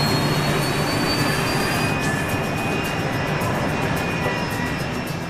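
A BAE 146 commuter jet with four turbofan engines gives a loud, constant roar with a high whine running through it, heard on its own with no voices.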